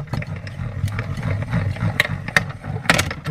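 Mechanical grinding and rumbling as a hand-cranked die-cutting machine rolls through plates, with clicks and clanks rising over a steady low churn.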